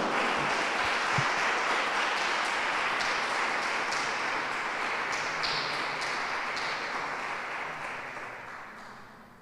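Strong applause from an audience at a course presentation event, dense sustained clapping filling the room for several seconds and gradually fading toward the end.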